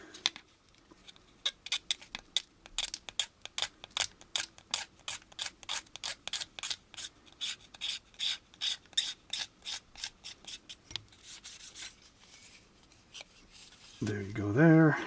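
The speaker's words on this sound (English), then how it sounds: "You can also perfect it out with your number 16 blade by cross adzing." Number 16 hobby blade scraping a plastic support pylon part of an AMT 1983 U.S.S. Enterprise model kit, a long run of close, crisp rhythmic scrapes, ending in a brief louder rustle.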